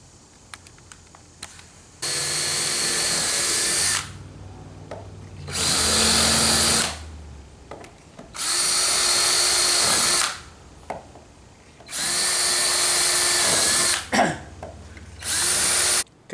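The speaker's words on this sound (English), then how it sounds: "We're going to drill a 3/16 pilot hole in this." A power drill bores a 3/16 pilot hole through a post for a cable railing install, whirring loudly in five sustained bursts of about two seconds each, separated by quiet pauses.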